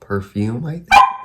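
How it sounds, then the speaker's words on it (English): A pet dog gives a sharp bark close by, cutting in right after a woman's casual speech, which continues around it. "that's my dog"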